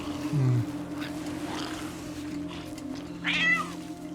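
A cat meows twice in the pirate video game Sea of Thieves, once low and once higher pitched, over a steady hum of ambient game sound.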